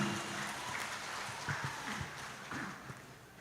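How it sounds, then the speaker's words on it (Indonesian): An audience at a church Christmas celebration claps in a faint, steady patter that fades slightly toward the end, heard at a distance without talk. "Tepuk tangan untuk Amang Panti Silaban."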